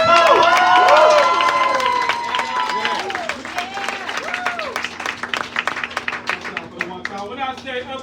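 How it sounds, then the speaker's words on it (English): An audience at a live poetry event cheers and applauds: dense clapping, whistles and shouts from a crowd, loud and close, gradually thinning into scattered claps. "Please make some noise for my buddy, Don fucking Rico!"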